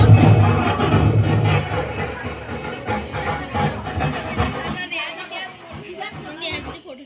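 A packed crowd mills about at a Ganpati festival, a thick hubbub of many overlapping voices close by, loudest at first and then thinning to a lighter babble.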